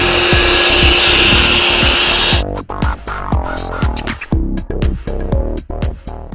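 Saw cutting wood panel for a subwoofer box, a loud whining run of about two seconds that stops, followed by irregular knocks and clatter of wood being handled.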